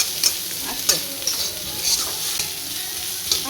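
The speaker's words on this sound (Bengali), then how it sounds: "লাল লাল করে ভাজা হয়ে গেছে, লাল না একটু বাদামি মতো।" Onion and garlic fry in oil in a pan, giving a close, continuous sizzle broken by sharp clicks and scrapes as a spoon stirs them.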